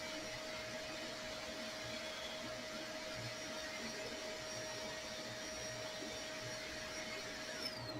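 Creality K1 Max 3D printer running its calibration routine, with a steady, fairly faint fan-like whir and a constant mechanical hum throughout, no talking.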